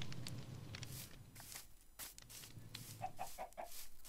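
Chicken clucking from a farm-building video game, a run of four short, evenly spaced clucks toward the end over a busy background of game sounds and noise.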